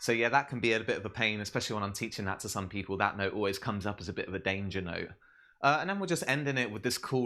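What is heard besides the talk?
No distinct noise like a dog, phone or traffic.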